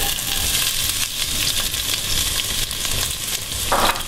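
Onions hit hot oil in a pan and sizzle steadily, a bright crackling hiss close by, with a sharper burst of spatter near the end and no talking.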